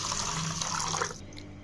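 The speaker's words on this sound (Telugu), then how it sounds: "దీని నిండా వాటర్ వేసుకొని నానబెట్టుకుందాం" Water runs steadily from a tap into a container of washed rice to soak it, a continuous splashing stream that stops abruptly near the end.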